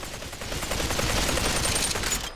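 Sustained automatic AK rifle fire in the VR shooter Population One, a dense, rapid stream of close, loud shots running unbroken for about two seconds.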